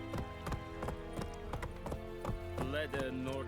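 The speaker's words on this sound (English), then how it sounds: "I am just gonna go park my horse." Horse hooves clip-clop at a steady walking rhythm in The Witcher 3, sharp evenly spaced hoofbeats over a low ambient bed, with a brief whinny-like voice near the end.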